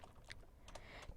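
Light clicks of typing on a computer keyboard, a few quick keystrokes, faint and close against a low background hum.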